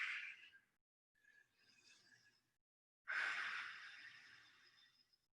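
Deep, slow breathing during a standing calf stretch: a soft breath out, a quieter breath after a pause, then a longer, fuller exhale, heard close and alone.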